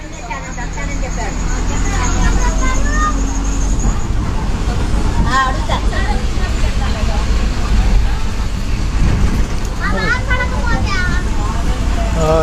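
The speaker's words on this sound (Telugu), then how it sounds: "తిప్పలకట్ట బస్సు బయలుదేరింది తెనాలి" Diesel rumble of the Tippalakatta bus leaving Tenali bus stand, mixed with steady roadway traffic, occasional honks and a background babble of people talking.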